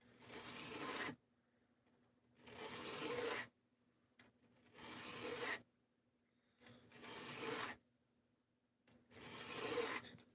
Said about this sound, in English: we're just practicing some freehand sharpening on some of the blades that are in the graveyard